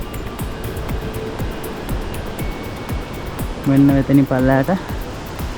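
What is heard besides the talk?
Bomburu Ella waterfall cascading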